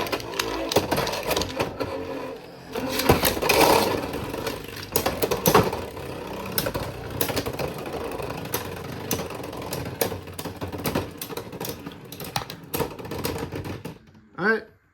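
Beyblade X tops, including an Obsidian Shell 4-60D, spin and clash in a stadium with dense, rapid metallic rattling and clicking bursts lasting throughout, loud and close, ending abruptly.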